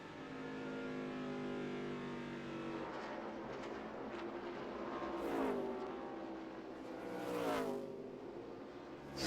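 A NASCAR Nationwide race car at Loudon practice roars past, engine rising in pitch as it accelerates out of a turn, loud and sustained with a swelling whine.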